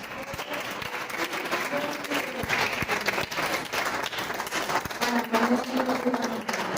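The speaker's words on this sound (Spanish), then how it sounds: "Le damos un fuerte aplauso." Applause from a church congregation during a Spanish-language worship service, a steady dense wash of clapping that carries through the whole stretch with a few louder swells and faint voices mixed in.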